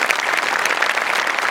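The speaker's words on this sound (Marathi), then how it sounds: "इथं जोरदार टाळ्या टीमसाठी" Brief burst of loud, dense applause from a Marathi comedy show audience cheering a team, steady throughout.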